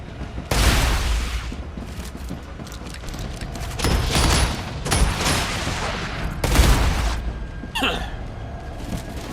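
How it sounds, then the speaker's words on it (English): Shotgun blasts in the video game StarRupture, several loud booming shots with short gaps between them, alone without talk. "I love the shotgun."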